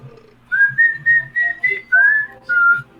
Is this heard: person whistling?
yes